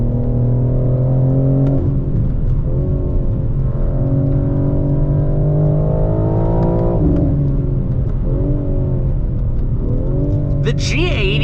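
A 735 hp BMW M4 Competition xDrive G82 engine drones loud and close from inside the car, rising and falling through revs with throttle swells and a brief shift near the end.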